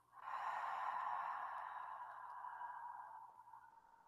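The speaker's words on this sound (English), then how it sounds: "Open mouth, exhale." A long, steady breath exhaled through an open mouth during a mindfulness meditation, soft and close, lasting about four seconds and gently fading, with no speech over it.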